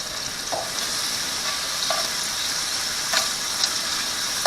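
Shrimp for lemon garlic shrimp pasta sizzling in a pan over modest heat, a steady close hiss broken by a few light stirring taps and scrapes.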